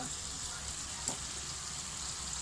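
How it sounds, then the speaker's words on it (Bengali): Cinnamon sticks and cardamom pods being stirred in hot oil: a steady close sizzle fills the whole stretch, with one brief scrape partway through and no talk. "আর দিয়ে দেব দুটা দারচিনি আর এলাচ দিয়ে নাড়াচাড়া করে নিব"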